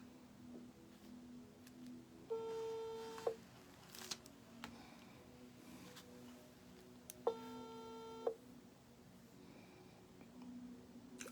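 Telephone call ringing tone sounding twice, each a roughly one-second electronic tone separated by a long gap, faint against a quiet room with light handling clicks.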